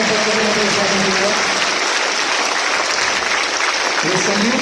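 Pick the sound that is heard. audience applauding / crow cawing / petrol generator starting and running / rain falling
audience applauding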